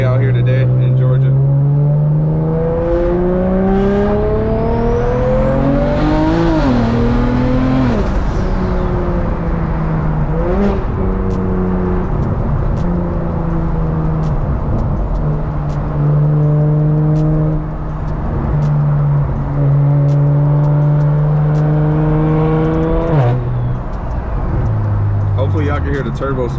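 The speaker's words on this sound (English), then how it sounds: "Hopefully y'all can hear the turbo spooling and everything." A straight-piped single-turbo BMW 335i with the N54 engine drones loud and steady from inside the car, rising and falling through gear pulls, with a high turbo whistle spooling up over the exhaust and a voice talking along.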